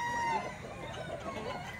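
A rooster offered for sale at the Baliwag poultry market crows and clucks, moderately close, over steady market background noise, with faint voices nearby.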